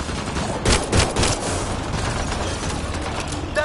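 Rapid bursts of gunfire in a Mass Effect 3 battle, a few sharp volleys up front, then a dense, steady rattle of shots filling the rest, loud and close, without speech.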